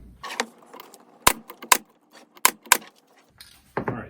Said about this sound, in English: this gun has plenty of power to drive those staples